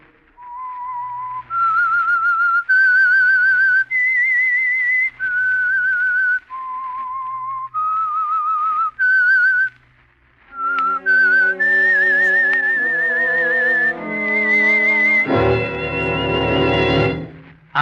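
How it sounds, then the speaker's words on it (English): A lone whistler performs the eerie signal tune of The Whistler radio program, a series of clear, sustained melodic notes, followed by a short swelling orchestral passage that closes on a loud chord. "That whistle is your signal for the Signal Oil program"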